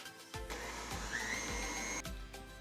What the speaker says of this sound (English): let's whisk this until everything is nice and combined